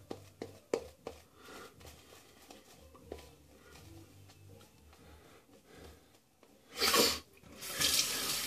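A bathroom tap is turned on at a sink during a wet shave, a short burst of gushing water near the end that follows scattered small knocks and clicks of handling.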